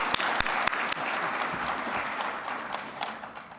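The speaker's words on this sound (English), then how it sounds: "a round of applause for the state demographer" An audience at a business economic outlook forum claps for the state demographer, a dense burst of applause that starts full and slowly thins and fades over a few seconds.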